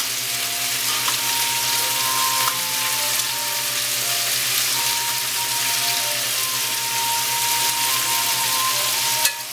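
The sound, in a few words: stuffed squid frying in pan on high heat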